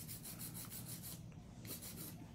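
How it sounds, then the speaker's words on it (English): Long acrylic nails being hand filed, a steady close scratchy rubbing in quick repeated strokes that pauses briefly, then resumes. "with longer nails, it's really nice to just simply hand file"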